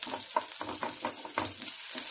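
Onions fry in hot oil in a pan for a paneer sandwich filling, a bright continuous sizzle broken by rhythmic scraping stir strokes, close and fairly loud with no voices.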